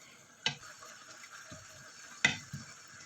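Chicken adobo with chicken liver being stirred gently in a pot, with a few sharp clinks and scrapes from the utensil over a quiet simmering hiss, close but fairly soft.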